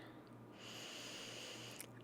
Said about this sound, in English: And then again, I am breathing in.